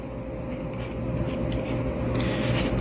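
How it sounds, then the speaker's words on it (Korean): A pen scratches across a Wacom pen display screen in short, soft strokes, heard over a steady background hum. "여기다 대고 편하게 글씨를 쓰듯이 써주면 됩니다"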